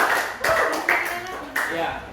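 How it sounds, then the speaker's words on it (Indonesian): Classroom applause for a student group after their presentation: a short burst of clapping from the class, mixed with voices talking over it. "Kita berikan tepuk tangan untuk kelompok 1."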